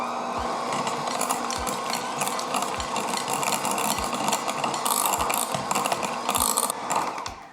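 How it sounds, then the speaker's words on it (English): An electric hand mixer beats pumpkin spice loaf ingredients in a bowl until smooth, giving a steady close whirring drone with regular low knocks as the beaters hit the bowl. "So I'm just using a hand mixer."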